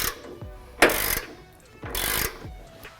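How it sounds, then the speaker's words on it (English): A socket ratchet turns a nut down onto a bolt fitted with a large washer, regular washer and lock washer while mounting a train horn air system on a 2015-2018 Ford F-150, giving two close bursts of rapid pawl clicking. "Tighten it down with a 19mm socket and wrench"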